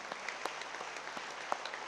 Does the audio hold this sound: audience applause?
yes